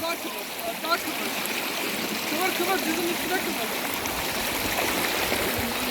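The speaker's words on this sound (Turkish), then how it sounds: "su sesi." A village stream flows over stones in a steady, full rushing wash of water, close and continuous throughout.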